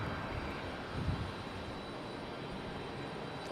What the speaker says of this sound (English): catch our 777 departure